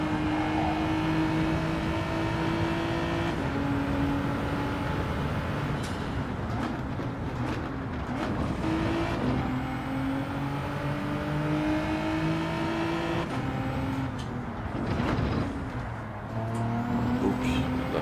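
Racing car engine in the driving game Gran Turismo 7, revving and shifting through gears with rising and falling whines that last throughout, loud and continuous with no speech over it.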